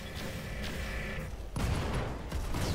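Heavy mech unleashing its three largest weapons at once in Roguetech BattleTech, a loud sustained barrage of booming fire that surges again midway and near the end, with no talking.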